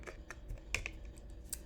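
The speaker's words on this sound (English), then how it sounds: "I am shuffling here." Tarot cards being shuffled by hand, heard as quick, soft, papery flicks and taps in uneven bursts, close and quiet with no talking.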